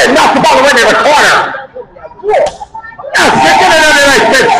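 Sharp open-hand chops land on a wrestler's chest at a live wrestling show, loud slapping cracks amid crowd noise and excited commentary.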